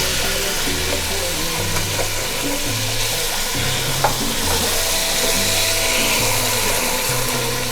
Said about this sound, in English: Now I'm gonna stir fry it all up.